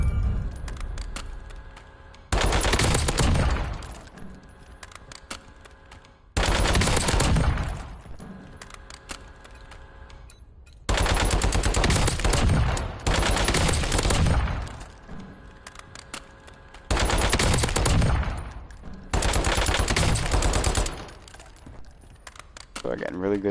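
A heavy assault rifle fires in Call of Duty: Warzone in repeated loud, rapid automatic bursts, each lasting a couple of seconds, with quieter gaps between them where a voice talks.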